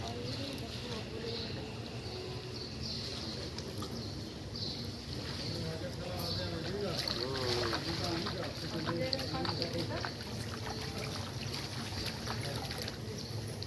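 A boat on the Ganges at a riverside ghat on a Kartik Purnima morning in Kolkata, with steady water trickle and lapping under a busy crowd of voices talking throughout.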